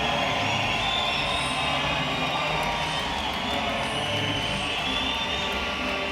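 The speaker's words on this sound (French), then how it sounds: "Et la foule apprécie" Steady, dense crowd roar fills a boxing arena during a pro bout, a continuous wash of cheering and noise with no breaks, and faint commentary may sit beneath it.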